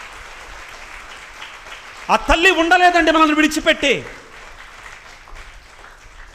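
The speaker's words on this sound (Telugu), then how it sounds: "గట్టిగా చప్పట్లు కొడదాం ఆ మరియ తల్లికి" Church congregation at a Marian rosary gathering bursts into loud applause for about two seconds, sharp and close, set among someone speaking before and after.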